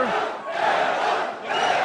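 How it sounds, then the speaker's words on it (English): Arm wrestling match crowd between Devon Larratt and Denis Cyplenkov roaring and cheering continuously, a loud dense wall of voices that dips briefly and surges again. "You can hear the crowd."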